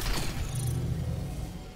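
A mechanical door opening in the Dead Space (2023) video game gives a sharp clank followed by a steady low grinding hum that fades slowly, heard alone without talk.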